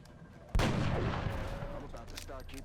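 Gunfire in the turn-based tactics game XCOM with the Long War mod: one sharp heavy shot that booms and rumbles away for about two seconds, alone without talk.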